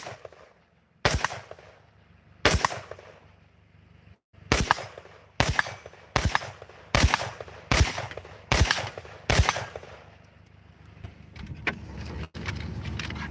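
Sharp gunshots fired at 8-inch headshot targets crack out one at a time, about nine loud reports spaced roughly a second apart with faint movement noise between them.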